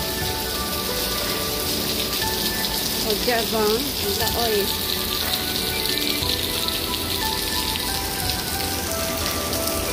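Heavy rain falling in Singapore, a dense, steady hiss of drops hammering surfaces close by, continuous throughout, with someone briefly speaking over it.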